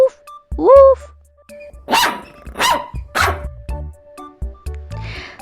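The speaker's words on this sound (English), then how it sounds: "This is a puppy. Puppy are baby dog." A puppy barks and yips in a quick burst of three or four sharp, close barks, with a whimpering whine at the start and a brief rustle at the end.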